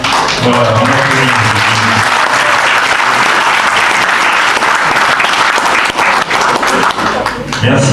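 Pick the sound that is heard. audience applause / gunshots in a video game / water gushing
audience applause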